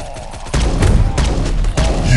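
Loud gunshots from the mobile shooter game Guns of Boom, beginning abruptly after a quiet moment and continuing as a close, booming volley with sharp repeated reports.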